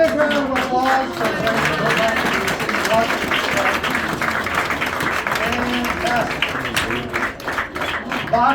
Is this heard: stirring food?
no